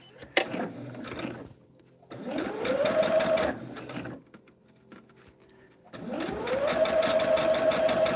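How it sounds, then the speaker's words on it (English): A home sewing machine runs in two sustained bursts, stitching along an existing seam line while making a table topper, each run speeding up to a steady whir, with a short pause and quieter handling between them. "we're just sewing on the line that's already there"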